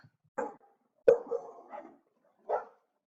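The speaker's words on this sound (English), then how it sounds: "the dogs decided to bark at him" Several dogs bark at someone arriving home, a short bark, then a louder burst of overlapping barks, and one more bark after a pause, fairly close.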